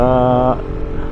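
Motorcycle exhaust after a muffler repair that left it short of fiber packing, heard up close as a steady droning idle tone for about half a second before turning into a rougher, broadband rumble.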